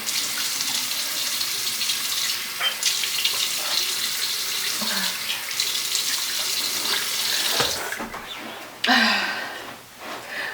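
Sink tap runs steadily and loudly, filling a container with water to rinse a face. It sloshes and changes tone near the end as the flow is shifted.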